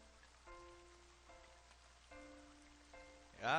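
Rain falls in an English street scene in the video game Ben Jordan Case 8, a faint steady patter under soft musical tones, ending in a brief louder swell.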